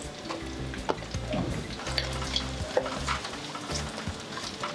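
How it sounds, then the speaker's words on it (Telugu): Chopped onions with cumin and mustard seeds frying in oil for a broad bean masala curry, a dense crackling sizzle with occasional spatula scrapes and taps, close and moderate in level. "ఉల్లిగడ్డలు వేగేటప్పుడు కొంచెం పసుపు వేగినట్టు భ్రమ కలిగిస్తూ తొందరగా వేగుతాయి అన్నమాట"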